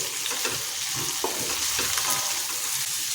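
Rice and masala being stirred in a pan for paneer pulao, a dense continuous sizzle with scraping spoon strokes, close up and without voices.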